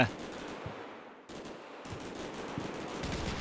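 Machine gun team firing in Combat Mission Shock Force 2, a war game, heard as dense, continuous bursts of gunfire with brief gaps, moderately loud against a distant battle backdrop.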